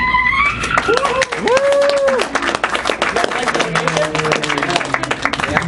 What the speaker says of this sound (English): can you guys all give a round of applause for the person who animated the 30 seconds of animation?